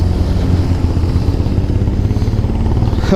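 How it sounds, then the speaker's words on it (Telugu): A motorcycle engine labours steadily in second gear while climbing a hill on a mountain ride near Koilkonda fort, a loud, close, unbroken rumbling drone with no talking. "మన బండి కొంచెం కష్టమైన సరే కానీ సెకండ్ గేర్ ఎక్కేస్తుంది."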